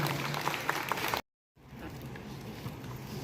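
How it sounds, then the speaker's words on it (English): Audience applause at an SSC exam results felicitation event honouring high-scoring students, a dense steady clapping that cuts out abruptly partway through, then resumes with a thinner, softer wash of claps. "Give a big round of applause to her."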